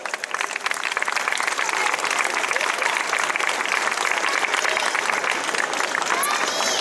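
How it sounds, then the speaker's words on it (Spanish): Audience at a lecture on the history of Tembleque's Plaza Mayor applauding the performers, dense sustained clapping from many hands, loud and close, with faint voices mixed in. "un fuerte aplauso para ellos"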